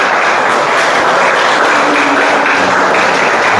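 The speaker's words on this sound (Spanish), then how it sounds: "Fuerte aplauso a todos los que nos acompañan por primera vez" Loud, dense applause from a church audience welcoming first-time visitors, a continuous wash of many hands clapping close and full throughout.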